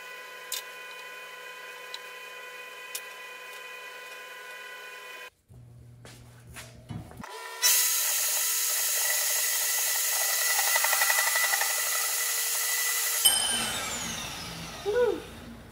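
Power tool cutting a turbo housing during intercooler piping fabrication for a 2JZ build, a sustained loud high-pitched whine and grind that runs for several seconds after quieter machine hum and a pause, no talk.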